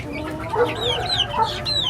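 A Bresse rooster, recovering after antibiotic treatment, clucks repeatedly close by amid steady farmyard background noise, with short chirping calls cutting through now and then.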